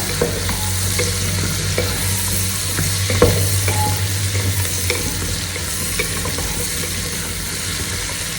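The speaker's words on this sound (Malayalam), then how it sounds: "ഇതിപ്പോ ഇട്ടുകൊണ്ട് ചുമ്മാ ഒരു രസത്തിന് ഇളക്കുന്നതേ ഉള്ളൂ" Mushrooms and carrots stirred in a frying pot for a beef pot roast, a steady close sizzle with scraping utensil strokes and an occasional clink throughout.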